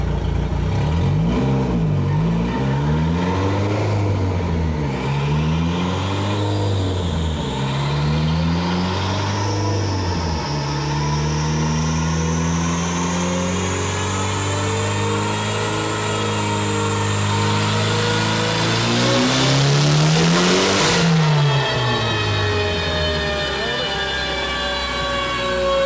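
A modified J1 Hyundai Elantra running 1200cc injectors on E85 revs hard on a dyno roller in a shop, the engine note climbing steadily in pitch across a long loud pull.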